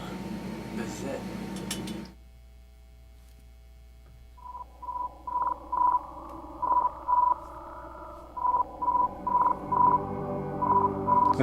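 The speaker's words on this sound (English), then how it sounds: "I have the audio from Juno." Radio signal received back by the Juno spacecraft, heard as a faint steady hum followed by a series of rhythmic beeping tone pulses, evenly spaced and fairly loud, after a brief burst of noise at the start.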